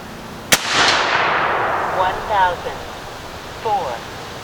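A Tex Rex .50 caliber rifle fires a single loud, sharp shot at 60 yards outdoors, leaving a long fading rumble and echo, with a voice speaking briefly afterward.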